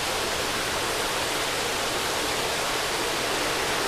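Water rushes steadily through aquarium overflow plumbing, a constant broadband hiss and splash like a small stream, loud and unbroken throughout with no talking.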